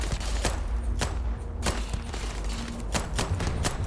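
Repeated pistol shots in Starfield, sharp cracks spaced irregularly over a low rumbling ambience, fairly loud and close, with no talking.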